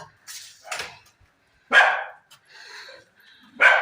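A dog barks several times in short, sharp bursts with brief pauses between them, close by and loud.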